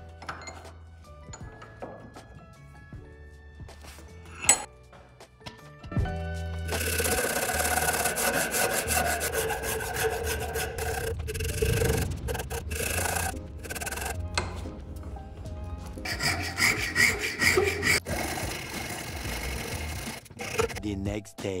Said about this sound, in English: I scraped the handle and sculpted it